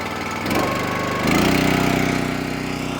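The small gas engine on a Wolfe Ridge 28 Pro log splitter runs close and loud with a steady throbbing chug, its pitch and load rising sharply partway through as the choke is turned off.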